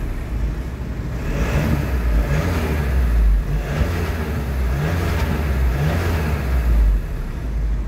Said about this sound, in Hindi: एग्जॉस्ट नोट आप सुनो।